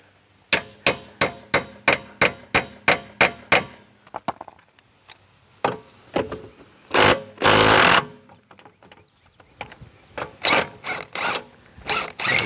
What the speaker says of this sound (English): Really, the only way I know to get these off is you got to beat the socket on.